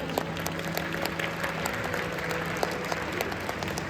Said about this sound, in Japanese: 皆様大きな拍手でお願いください。